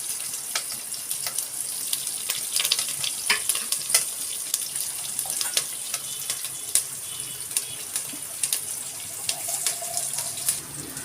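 Onions with curry leaves sautéing in a pan for a Tamil semiya and rava upma dish, a steady bright sizzle with scattered clicks and scrapes of stirring throughout, moderately close and alone without talk.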